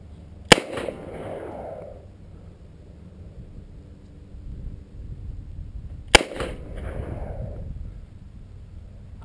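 Two sharp, loud gunshots from a .38 Special revolver, fired several seconds apart outdoors, each crack followed by a rolling echo and low rumble.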